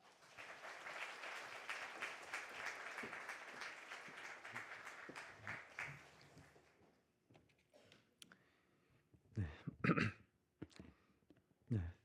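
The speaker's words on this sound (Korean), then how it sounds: "우리 이 시간 남기관 목사님 나오실 때 큰 박수로 여러분 맞아주시길 바랍니다" A church congregation applauds as a pastor comes forward, sustained hand clapping for about seven seconds that fades out, followed by scattered knocks and shuffling sounds.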